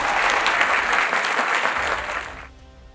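An audience applauds after a speech at a secondary school debate final, loud sustained clapping from a crowd that fades out toward the end.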